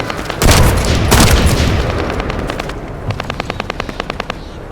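Loud bursts of gunfire in the game The First Descendant, heavy booming shots at first, then a rapid rhythmic run of sharp automatic fire fading slightly toward the end.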